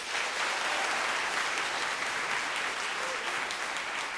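A live audience claps together in a dense, steady burst of applause lasting a few seconds, a show of hands by sound during a Supreme Court themed live show in DC.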